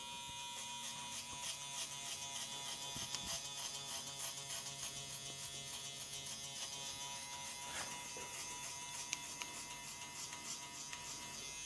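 Electric hair clippers buzz steadily during a men's low taper fade haircut, a continuous faint motor whine with slight changes in pitch as the blades move through hair.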